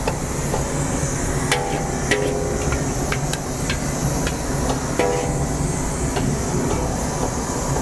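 Pork is chopped at a morning market stall in Talat Phlu: sharp, irregular knocks of a blade on a board, some in quick bursts, ring out over a steady, busy market din.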